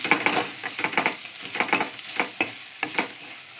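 Turmeric powder and spices sizzle in a hot pan while being stirred, with a dense crackling hiss broken by repeated sharp scraping strokes, loud and close, with no voices.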